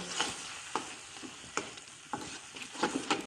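Raw mango pieces being stirred with ground black pepper, chaat masala and other dry spices, giving quick repeated scraping and tapping strokes of a spoon against a bowl, close and fairly quiet.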